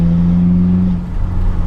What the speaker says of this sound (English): I like straight pipe diesel, cut up exhaust system diesels.